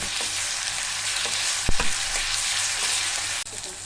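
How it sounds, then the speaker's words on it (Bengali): Onion, ginger and garlic frying in a pan for a chickpea curry, a steady close sizzle with a few clinks of a spoon stirring partway through. "আমি ভালো করে এগুলো ভেজে নেব কাঁচা গন্ধ যাওয়া পর্যন্ত"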